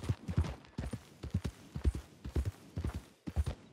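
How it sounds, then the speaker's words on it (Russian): Horse hooves clip-clop steadily in Red Dead Redemption 2, a close, even trotting rhythm of hoofbeats that runs through the whole stretch without talk. "Это не твоя лошадь?"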